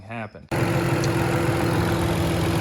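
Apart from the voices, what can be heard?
BMW E39 wagon M54 turbo engine running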